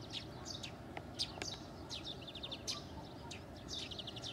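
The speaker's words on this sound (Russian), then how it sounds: "Птицы поют." Songbirds twitter in quick rapid trills and scattered chirps at dawn by a corn field near Nevinnomyssk, fairly distant and continuous over low open-air background noise.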